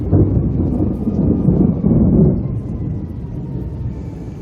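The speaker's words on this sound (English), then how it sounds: "aside from the loud thunder, lightning too, this really isn't anything like a hurricane in Florida" Loud rolling thunder rumbling through a heavy rainstorm, with steady rain hissing underneath and no voices.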